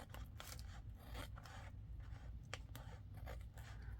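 Faux leather journal page being trimmed by hand with a metal ruler, giving faint, close scraping and cutting strokes in quick, uneven bursts against a quiet background.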